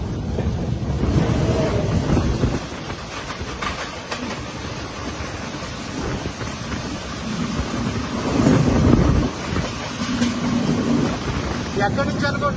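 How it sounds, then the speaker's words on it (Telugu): The Netravati Express, running from Trivandrum to LTT near Ernakulam, passes on the opposite track as a steady heavy rumble with wind roar. It is heard from inside a moving train, with clanking surges partway through. "ఆపోజిట్ ట్రాక్ లో ఒక ట్రైన్ వస్తుంది"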